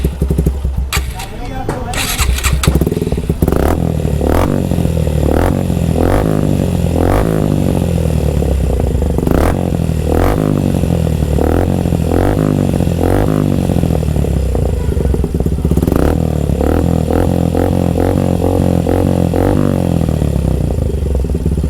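A motorcycle with an aftermarket R1M-style exhaust in carbon finish, no dB killer fitted, starts with a clattering crank, then idles and blips repeatedly through sharp, loud revs, close by.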